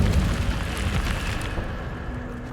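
In the video game Hogwarts Legacy, the Incendio fire spell bursts out as a deep, roaring whoosh of flame that is loud at the start and fades into a lower rumble over a couple of seconds, with no talking.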